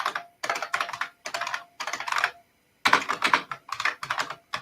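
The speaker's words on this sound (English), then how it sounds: "I apologize for the loud keyboard." A loud computer keyboard clatters in rapid bursts of keystrokes separated by short pauses, close and distinct with no talking over it.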